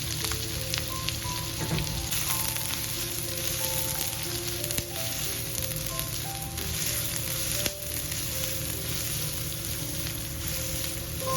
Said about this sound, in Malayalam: ഇനി ഇതിലേക്ക് ഒരു മീഡിയം സൈസിലുള്ള സവാള അരിഞ്ഞതുകൂടെ ചേർത്ത് നന്നായി ഒന്ന് ഇളക്കിയെടുക്കാം